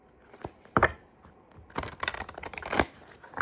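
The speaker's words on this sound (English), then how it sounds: "I'm going to shuffle the Oracle for advice for the season transition" Oracle card deck, some cards silver-leafed, being shuffled by hand at close range: irregular papery riffles and slaps in quick clustered bursts, with no voice.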